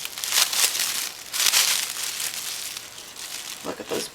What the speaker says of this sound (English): So I'm just going to unwrap it right here.